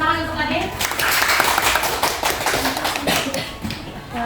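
Children in a classroom clap for a classmate, a close, lively burst of many small hands clapping with sharp taps, voices chattering over it.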